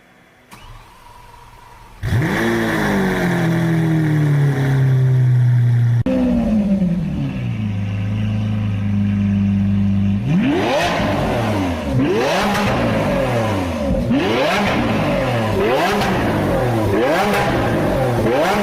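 A Lamborghini Aventador S engine starts, idles with a deep rumble, then revs repeatedly in sharp rising and falling bursts, loud and close.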